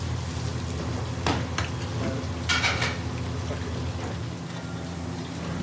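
Katla fish cooks in a pan for Bengali fish curry, giving a steady close sizzle and hiss with a few brief clinks of a utensil against the pan.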